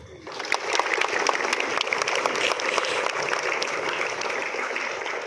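Applause from a school assembly of students for the day's student officers, many hands clapping together, swelling quickly and holding steady and fairly loud to the end.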